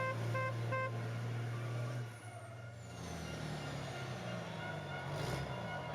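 Racing trucks doing donuts at a 2022 FIA European Truck Racing Championship round in Hungary: a steady low engine drone heard from a distance, with a brief tooting horn near the start and a faint hiss later.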